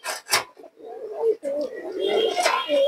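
A male pigeon gives a low, throaty, rolling coo close by. Two short sharp noises open the clip, then the bird coos in a nearly continuous run to the end.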